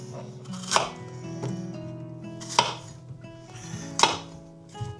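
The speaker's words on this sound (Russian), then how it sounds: "И теперь я порежу на дольки." A knife cuts apples into wedges on a board for a fruit kissel, making three or four sharp, close chopping thuds spaced a second or two apart over a faint kitchen hum.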